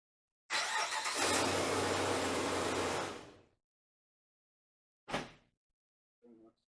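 A 2005 Jeep Wrangler engine starts with a loud broadband roar and runs steadily for about three seconds before cutting off, followed by two short, separate bursts of mechanical noise in an otherwise quiet setting.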